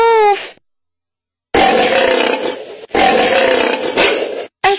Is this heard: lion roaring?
yes